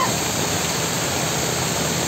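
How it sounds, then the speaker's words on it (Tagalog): Heavy, steady rush of water pouring through an excavation tunnel during typhoon rain, a dense, continuous roar close by with no breaks or talk. "Ay, yung tunnel, malakas ang tubig."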